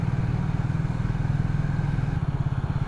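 Triumph T4 motorcycle riding along a town road in the morning, with a steady, close engine drone and rhythmic low pulsing throughout, no talk over it.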